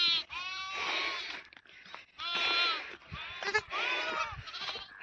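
Sheep and goats bleat repeatedly at a rural livestock pen, several loud overlapping calls with wavering tones filling the scene, a few brief pauses between bursts.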